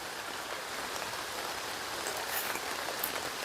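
Steady rain falls and patters on surfaces outdoors in a forest setting, a dense continuous hiss with no voices, close and even throughout.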